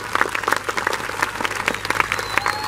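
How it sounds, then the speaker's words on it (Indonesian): A short burst of crowd applause, with scattered hand claps blending together, moderately loud and steady throughout. "Jelas, tepuk tangan untuk kalian semuanya."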